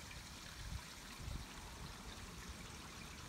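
Gray water from an RV holding tank drains through a sewer hose in a steady, fairly faint rushing trickle with a few slightly louder surges.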